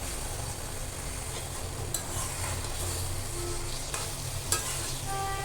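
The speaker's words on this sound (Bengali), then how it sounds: "এপিট ওপিট করে দিচ্ছি, মশলার সাথে ভালো করে মিশিয়ে দিলাম আলুগুলা, যাতে সবগুলো আলু মশলা লাগে।" Potatoes stir-fried in spice masala in a pan, a steady loud sizzle running throughout with occasional scrapes of a spoon turning the pieces, no voices.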